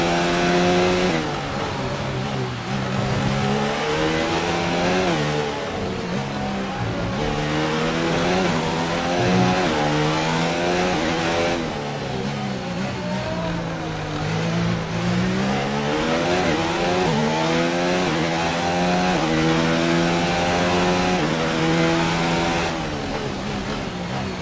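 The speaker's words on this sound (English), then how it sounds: "Reached a worrying level of wear on the internal combustion engine. Let's try and keep the revs down." A Formula 1 car engine from the F1 2019 video game, running with a worn internal combustion engine, revs loud and continuously, its whining pitch climbing and dropping through repeated upshifts and downshifts with no pauses.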